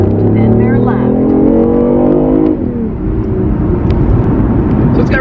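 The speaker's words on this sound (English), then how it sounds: "You can hear the electric motor kind of kicking and buzzing, going simultaneously." A BMW hybrid car accelerates in sport mode, its engine tone rising steadily with an electric motor buzzing alongside, loud and close from inside the cabin, then the pitch drops as it shifts and settles into a steady drone.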